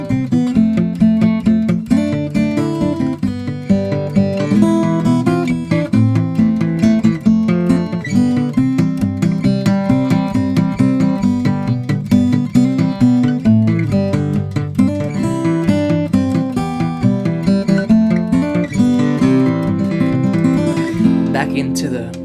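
Fingerstyle acoustic guitar plays "We Wish You A Merry Christmas", with the melody in the lower octave and plucked bass and chord notes under it. The playing is continuous, close and bright, with no talking.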